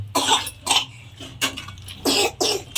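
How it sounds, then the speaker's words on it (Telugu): A series of coughs, about six short bursts spaced unevenly, close and fairly loud with no talking. "దగ్గు లైట్గా వస్తున్నట్టు వస్తుంది కదా"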